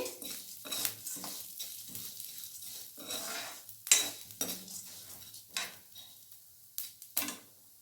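Chana dal frying in a pan, a soft sizzle under repeated scraping and stirring strokes from a spoon against the metal, with occasional clinks.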